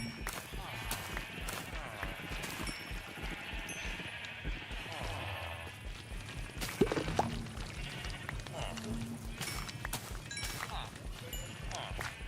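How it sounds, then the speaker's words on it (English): Sheep in the Minecraft video game bleating now and then in a modded server world, with quick footstep-like taps and someone talking over the top throughout; the game sounds stay soft under the voice. "There's so many sheep over here."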